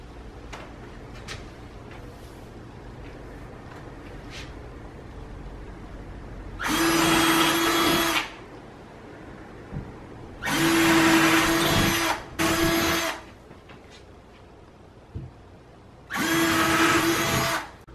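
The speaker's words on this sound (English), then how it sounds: "so now we're just gonna drill some holes" A power drill whirs loudly in several bursts of a second or two each while drilling holes in a wall, with quiet pauses and small handling clicks in between.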